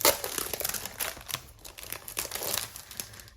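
Designer series paper sheets are handled and crinkled close up, with soft irregular rustling and crackling bursts at low volume, alone without talk.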